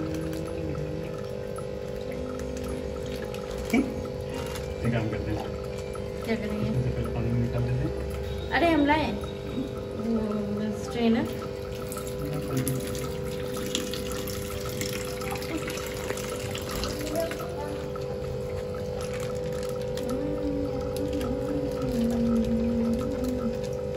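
Water is poured into a fish tank at a busy Sunday pet market in Kolkata, a steady pouring under ongoing talk and market background noise.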